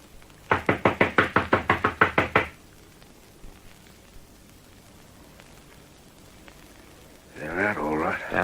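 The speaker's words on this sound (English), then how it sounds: "Knock again. Louder." A fist knocks on a door in a rapid, loud run of about a dozen evenly spaced raps, followed by quiet room tone and then a voice speaking.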